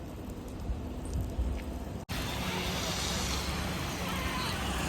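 Steady rain during a long motorcycle journey, a dense broadband hiss that suddenly thickens after a brief break, loud and close, like rain striking a helmet or tarp.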